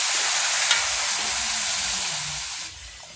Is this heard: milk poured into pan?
yes